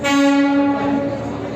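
A train horn blares in one long, loud, steady blast that slowly fades, with no voices, from a train running between Srinagar and Banihal in snow.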